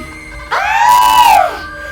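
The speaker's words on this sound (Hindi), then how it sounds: "उतना कहकर वो जोर से चीखने लगी।" A witch in an animated Hindi horror story lets out a loud, sustained shriek that rises and then falls, lasting about a second over a faint background.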